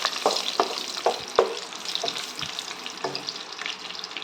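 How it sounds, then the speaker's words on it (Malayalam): Cashew nuts sautéing in a pan for prawn biryani, a soft steady sizzle broken by several sharp scraping stirs of a spoon, close up with no voices. "കാഷ്നട്ട് ഇതുപോലെ തന്നെ നമുക്ക് വഴറ്റി നമുക്കൊന്ന് കോരിയെടുക്കാം."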